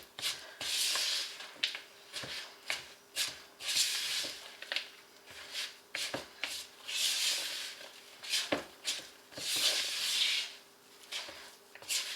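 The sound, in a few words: stirring cookie mix in a bowl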